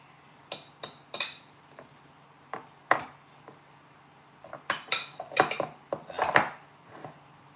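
A utensil clinks and knocks against a bowl while barbecue sauce is mixed for meal prep; sharp, irregular clattering strokes up close, some in quick clusters, separated by short quiet gaps.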